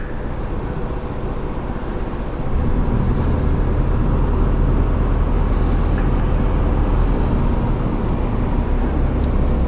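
A BMW superbike rides along a road in the UK, near London, with a steady, loud wind and engine roar that swells after a couple of seconds and holds continuously to the end.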